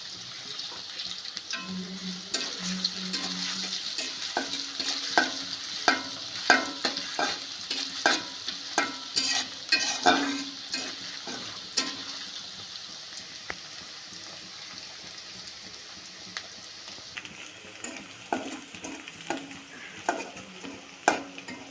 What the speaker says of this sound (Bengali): পেঁয়াজটা লাল করে ভাজা হয়েছে